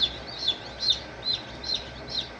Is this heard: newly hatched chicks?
yes